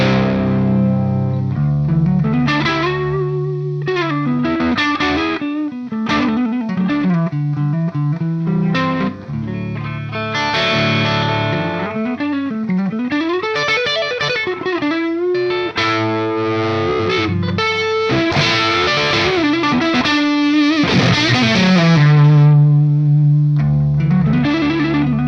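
An electric guitar on the neck pickup, played through a Softube Amp Room rock preset, runs continuously with distorted, chorused riffs and sliding bends, steady and fairly loud, with no talking.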